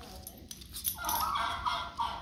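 A domestic turkey gobbles in a burst of warbling calls, fairly close, over steady outdoor background noise.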